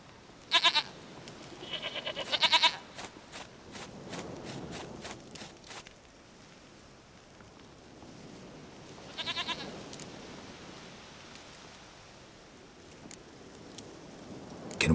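In The Witcher 3: Wild Hunt, a goat gives a few short, fairly faint bleats in separate bursts over quiet ambient game sound and light footstep-like taps.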